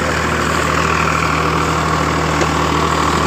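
A Farmtrac 60 tractor pulling a super seeder in a field runs with a loud, steady diesel drone and a constant low rumble and vibration, with no voices.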